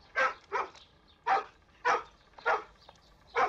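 A small dog barks six times in short sharp yaps, close and fairly loud, spaced irregularly about half a second to a second apart with brief quiet gaps, in an old Romanian film.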